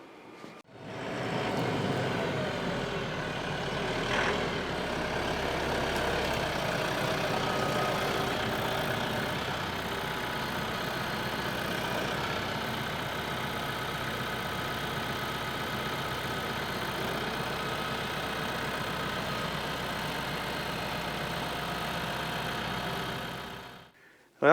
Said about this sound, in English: I'm gonna go ahead and grab the tractor